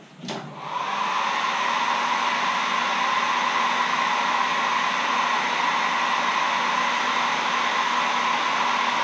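A hair dryer blows steadily and loudly at close range to dry paint on a carved wooden caricature letter opener, starting with a short click and then holding an even, unbroken roar with no talking.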